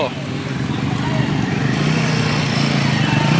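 A Royal Enfield Himalayan 450 motorcycle engine revs as it climbs over an obstacle at a World Motorcycle Day event, a close rising buzz mixed with crowd noise and talking voices.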